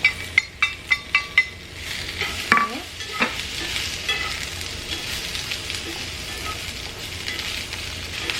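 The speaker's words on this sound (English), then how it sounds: "So we'll just give it a time to cook the onion." A medium onion stirred in a hot frying pan: a quick run of five or six clinking spoon strokes, then a steady close sizzle that continues throughout, with no talk.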